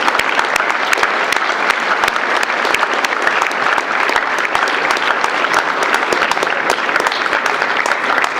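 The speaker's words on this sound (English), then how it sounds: "please join me and cadets as well in a round of applause for these 3 very good" A round of applause from an audience of cadets at a West Point valor event, dense continuous clapping from a large crowd, loud and even from start to finish.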